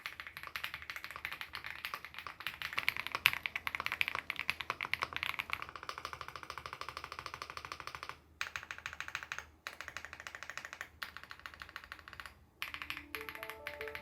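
Continuous fast typing on a Lucky 65 V2 mechanical keyboard, a dense stream of close, crisp key clacks with brief pauses near the end.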